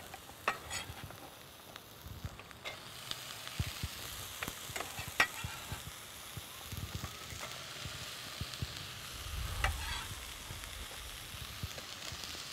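Diced onion sizzles in a hot pan for an oil-free black bean chili. A soft, steady crackle continues with small stirring clicks throughout, and no one talks.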